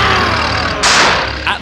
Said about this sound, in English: Diesel revved his engine and dug his wheels in the rails as hard as he could